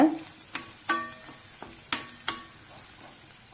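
Crushed garlic cloves roasting in a pan over a low flame for garlic idli podi, with a faint steady sizzle broken by several sharp scrapes and taps of a spoon stirring against the pan.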